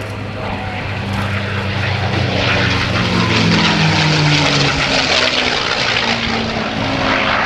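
Rolls-Royce Merlin piston engine of a WWII-era propeller fighter at the 2009 NAS Oceana airshow, a loud, steady, throaty roar sustained throughout with a droning low pitch that shifts as the plane passes, no voices.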